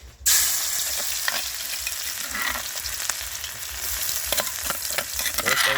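Garlic and pork fry in hot oil with a strong, steady sizzle and occasional stirring scrapes, loud and close after a brief silent start, no voices.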